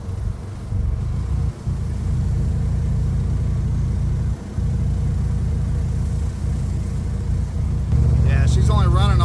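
A 460 V8 engine running rough and misfiring on some cylinders, a steady low uneven rumble close by with someone talking over it.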